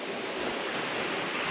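Surf breaking at the shore of Whitefish Dune's Welker's Point in Door County on a cool, crisp day, a steady close wash of waves with wind noise over the microphone throughout, no voices.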